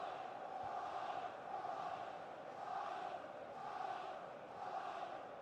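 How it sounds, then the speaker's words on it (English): Stadium crowd noise from an eFootball match between Chelsea and another side, a steady broad roar with gentle swells throughout, no commentary heard over it. "Well, just listen to the crowd."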